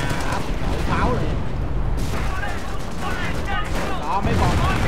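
Artillery barrage in Company of Heroes, a World War II strategy game: continuous heavy booming and crackling gunfire forming a dense, loud wall of explosions with rolling blasts throughout, and someone speaking over the battle noise.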